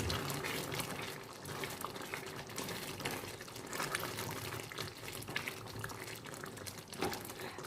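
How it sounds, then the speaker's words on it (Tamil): Liquid bubbles and splashes steadily as water is poured into a simmering peas and paneer gravy, a soft continuous wash of sound with no voices. "நீங்கள் தண்ணி ஊற்றிக்கோங்க"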